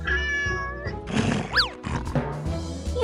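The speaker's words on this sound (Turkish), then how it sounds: "Seni tatlı kedicik seni." A cat meows loudly and close by in a Turkish children's show, a single rising and falling meow heard over a busy background of music and other sounds.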